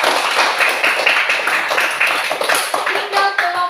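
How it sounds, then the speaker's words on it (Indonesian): Schoolchildren in an Indonesian classroom clap their hands for a group that has just performed a traditional dance, a steady, loud, continuous round of applause that stays full throughout. "Iya, tepuk tangan."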